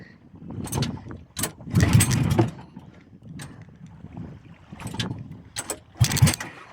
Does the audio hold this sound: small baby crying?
no